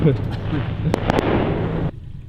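Fireworks go off during an outdoor show as a few sharp, distinct bangs and pops over a continuous background murmur, then the noise drops off abruptly near the end.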